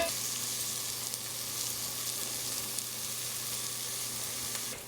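A whole slit fresh chilli and a bay leaf sizzle in hot oil with cumin seeds in an Instant Pot Mini, a steady, close frying hiss with no talking.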